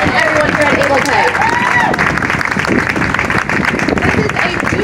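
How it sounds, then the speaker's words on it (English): Crowd applause at a ribbon cutting for a new business facility, steady and loud for several seconds with cheers and murmuring voices mixed into the clapping. "Round of applause going for Able Pay and their team"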